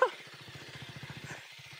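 A KTM Duke 390 motorcycle rumbles close by as it is ridden, its engine giving off a steady run of low, rapid thumps that dip briefly near the end, with faint voices in the background.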